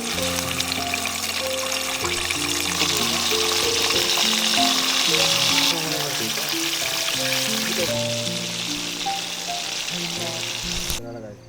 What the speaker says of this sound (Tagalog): Pipita na tayong galunggong